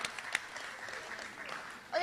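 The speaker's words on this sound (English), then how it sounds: "Can we have another round of applause?" Audience applause for a step dance team at an outdoor community event, a brief burst of clapping with voices talking over it and a louder swell at the very end.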